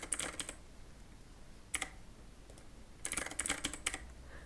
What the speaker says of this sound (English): type your current password, and then type your new password here